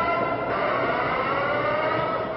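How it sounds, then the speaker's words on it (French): Sirens wail far off, a steady sustained tone with faint overlapping pitches, holding evenly through the short stretch with no talking. "Seules des sirènes au loin rompent le silence."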